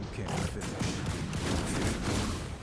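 Cannon blast attack in the video game Ruined King, a loud, dense volley of three blasts with mechanical clanks and booming impacts that fills the whole stretch without a break.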